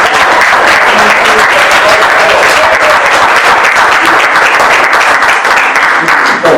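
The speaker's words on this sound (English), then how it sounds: "Let's give a big round of applause." A loud, sustained burst of applause from an audience at an NCO meeting, continuous clapping from many hands with no voices standing out.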